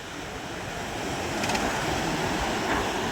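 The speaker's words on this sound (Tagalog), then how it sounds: "Malakas ang hangin" Steady roaring wind buffeting the microphone at a seaside fish terminal in Tanza, Cavite, Philippines, broadband and continuous, mixed with a wash of surf throughout.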